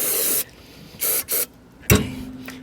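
Brake cleaner sprayed from an aerosol can onto the jaws of a B&W Companion fifth-wheel hitch, three loud close hissing bursts of about half a second each, then a clunk and a fading rattle.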